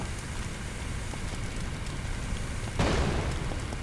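A steady crackling, rain-like hiss of fire in a garage in the video game Firefighting Simulator - The Squad is broken near the end by a sudden loud explosion burst that lingers.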